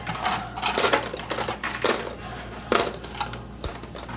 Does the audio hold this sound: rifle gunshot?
no